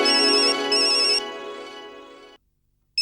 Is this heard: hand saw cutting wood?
no